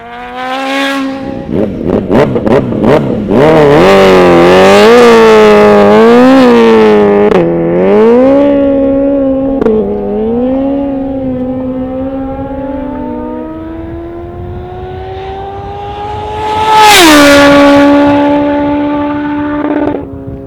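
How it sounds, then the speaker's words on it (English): A road-legal 370bhp TTS SuperBusa, a tuned Suzuki Hayabusa motorcycle, revs hard and spins its tyres. The engine note climbs and falls through several loud surges, holds a long, steady high scream, then flares up sharply again near the end. "for all this tyre shredding insanity, the SuperBusa's actually road legal"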